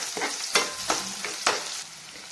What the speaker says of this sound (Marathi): इथे तेलामध्ये लसूण घातलेला आहे। त्यानंतर कांदा घालायचा आहे। कांदा परतून घ्यायचा।